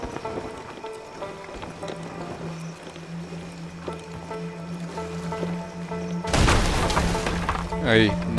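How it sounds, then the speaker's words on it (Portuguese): A wooden ship breaks apart in the pirate game Sea of Thieves, a sudden loud crashing and splintering burst after a stretch of quieter game ambience, with players talking over it. "Agora quebrou o barco"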